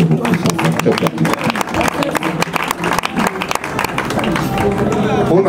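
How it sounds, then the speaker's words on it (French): Audience applause at a youth mobilisation gathering, dense clapping filling the room alongside a speaking voice over a steady crowd bed, continuing for several seconds. "Je vous demande d'abord d'applaudir pour ça parce que nous sommes très fiers."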